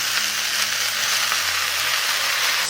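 Pig intestines with pickled chilies sizzling in a hot wok in a rural home kitchen, a steady close frying hiss throughout, no voices.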